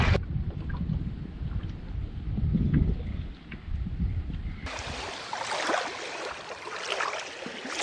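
Strong wind gusts roar across an Algonquin lake, a low rumbling buffet that turns to a harsher, brighter rush partway through, with no voices.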